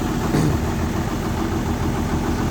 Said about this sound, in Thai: สตาร์ทแล้ว